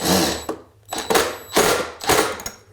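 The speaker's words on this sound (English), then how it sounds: "Then we can drill the first hole and then drive in the screw." Several bursts of a power tool drilling a hole and driving a screw into a floor, each rising and stopping, with short pauses between them, close and fairly loud.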